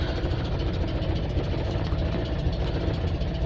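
A steady, close engine idle from an Invacar three-wheeled invalid carriage, an even low rumble holding constant with no revving before setting off.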